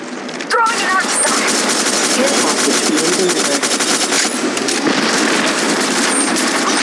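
Automatic gunfire in Apex Legends Mobile, a dense, loud, sustained barrage of rapid shots close by, with game voice lines and other sounds mixed in.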